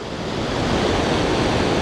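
Powerful waterfall roaring at close range, a dense, steady rush of water with no breaks or variation in level.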